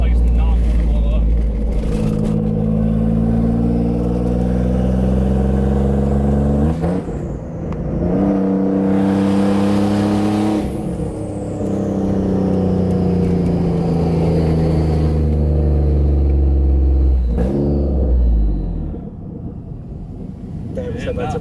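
A Greddy twin-turbo Nissan 350Z engine revs repeatedly, loud and close, rising and falling in pitch with a turbo whine and exhaust rumble over several sweeps. Voices talk faintly under the engine.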